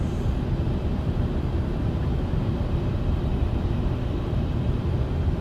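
Boeing 767-300ER airliner in MSFS2020 on approach, hand flown with gear down: a steady, continuous low engine and airflow roar with a broad rumble, unchanging in level throughout, with no talking.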